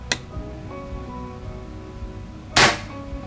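Two sharp hunting-rifle shots, one at the very start and a second, louder crack a couple of seconds later, over a steady outdoor background.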